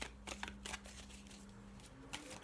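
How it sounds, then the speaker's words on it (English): Tarot oracle cards are shuffled by hand in quiet, brisk bursts of papery riffling and soft slaps, close to the listener, with short pauses between. "So let's give it another shuffle."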